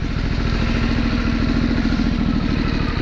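A Harley-Davidson Sportster S motorcycle engine runs steadily and loud, with a deep, throbbing rumble and rapid pulsing beats sustained throughout, close up and with no voices.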